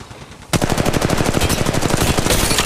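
Rapid automatic gunfire in the mobile shooter Apex Legends Mobile, a dense steady stream of loud close shots starting abruptly after a brief quiet lead-in and continuing without pause.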